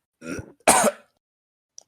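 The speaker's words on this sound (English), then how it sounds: "little bit of a cough" A single throat-clearing cough, then a second sharper burst a moment later, close and fairly loud against silence.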